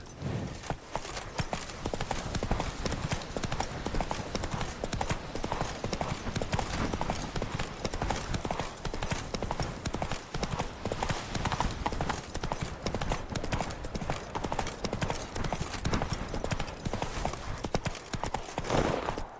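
Hooves pound in a fast, continuous galloping rhythm as a horse runs in The Witcher 3, loud and dense, mixed with rushing movement noise throughout.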